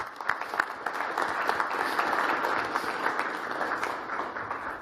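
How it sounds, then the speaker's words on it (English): An audience at a board of directors meeting claps for several seconds, a steady close wash of hand claps with a few sharper individual claps standing out. "So let's give them a round of applause."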